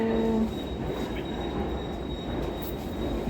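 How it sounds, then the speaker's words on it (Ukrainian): A metro train pulls into Newcastle Central Station with a steady rumble, a brief high squeal of wheels at the start fading into continuous rail noise. "вже в метро, чекаю свого потяга"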